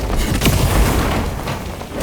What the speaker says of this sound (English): And then that explosion gets stuck into nothing.